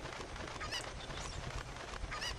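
Chickens clucking and squawking as they are pushed around in The Legend of Zelda: Ocarina of Time, brief cackles over a busy game backdrop.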